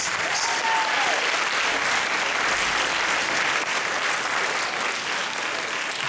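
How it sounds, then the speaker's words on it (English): A graduation audience at a San Francisco high school keeps up sustained, dense applause for about six seconds, a steady wash of many hands clapping at an even level throughout. "another round of applause, because we can't really clap enough for these folks"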